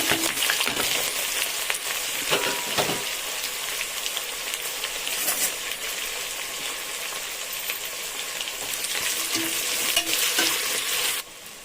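Three large chopped onions sizzle loudly in a pan, with steady frying hiss and repeated stirring scrapes close up, no voices, until the sizzle drops abruptly at the end.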